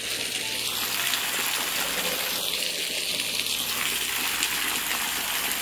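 Water gushes in a steady, continuous rush, loud and close, with no break and no voices over it.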